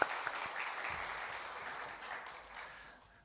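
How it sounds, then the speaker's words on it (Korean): A church congregation stands and applauds to welcome visiting missionaries who serve in Laos during a Sunday service: a steady wash of clapping from many hands, fairly distant, that gradually thins and fades out toward the end. "우리 잠깐 자리에 일어나시면 우리 환영의 또 박수 하도록 하겠습니다."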